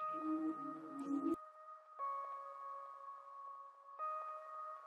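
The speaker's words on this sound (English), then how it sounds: "the final melodic element I added was just this texture pluck" A dry ambient texture pluck pad from Omnisphere's Haze bank, heard without effects: quiet sustained tonal notes that shift pitch about every two seconds, with a brief lower rumbling texture at the start.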